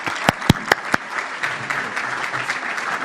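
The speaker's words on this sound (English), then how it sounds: "Can we give them a round of applause?" Banquet audience at a Labour Day event gives a round of applause: a few sharp, loud claps up front, then a steady wash of lighter clapping from the room that holds on to the end.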